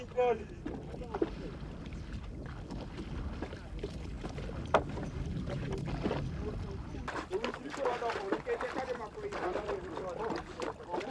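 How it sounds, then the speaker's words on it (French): Oars splash and knock rhythmically as a fishing boat is rowed through Lake Victoria, with steady wind rushing across the microphone and no talking. "les pêcheurs doivent souvent quitter le rivage à la rame"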